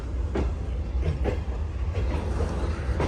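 A passenger train led by a diesel locomotive pulls out of Khanewal station, a steady low rumble with rhythmic wheel clicks over rail joints repeating every half second or so, heard from inside or close by.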